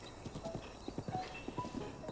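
Horse hooves clip-clopping in Zelda: Breath of the Wild, a steady run of close, distinct hoofbeats with a faint whinny-like tone.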